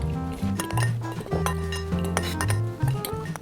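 Flour, cornstarch and salt are stirred together in a bowl for chicken-feet breading. A utensil clinks and scrapes against the bowl in quick, uneven knocks, close up, with no speech.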